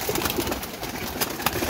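Paired breeding pigeons coo in soft, repeated throaty calls, close and clear over a busy background.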